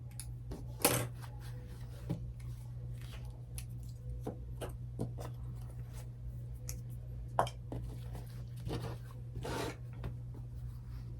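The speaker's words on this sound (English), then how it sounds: "I'm going to use my 60mm Alpha rotary cutter" A 60mm rotary cutter slices through stacked fabric pieces for a quilt block, heard as quiet, sparse scraping cuts and light clicks in a calm room.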